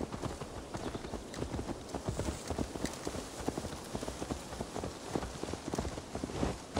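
Horse hooves clip-clop in Assassin's Creed Valhalla, with a steady, close rhythm of hoof strikes throughout under a faint ambient bed.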